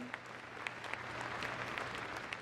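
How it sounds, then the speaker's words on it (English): Audience applause at a dog activities display at Crufts, a steady wash of clapping from a large indoor crowd lasting the whole stretch at moderate volume, with no voices over it. "So let's give Max a big round of applause."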